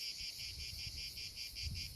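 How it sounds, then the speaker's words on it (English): Cicadas on a hot day give a continuous high-pitched shrill buzz that pulses in a quick, even rhythm, steady and fairly close, with no speech. "I hope the cicadas don't bother you while watching, listening."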